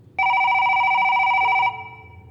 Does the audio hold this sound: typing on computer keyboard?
no